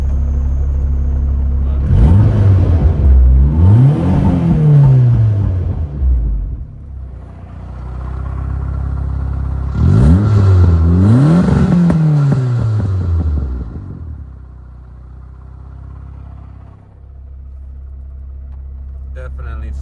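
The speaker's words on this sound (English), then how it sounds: "You hear that as soon as I let off the clutch?" BMW E30 engine, not yet warmed up, heard as the clutch is let off: deep rumbling revs swell and fall in two close waves with a low idle between, loud and near, with a person talking.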